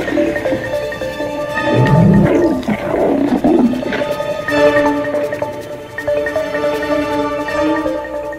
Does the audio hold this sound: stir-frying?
no